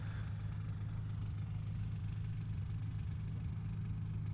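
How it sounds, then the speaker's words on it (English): A 315-horsepower Lycoming AEIO-580 engine on a 330 LX aerobatic plane is run at full power for takeoff at an aerobatics championship, heard as a steady, low, continuous drone with no talk. "apply full power to the Lycoming AEIO 580 that is in the front of that 330 LX"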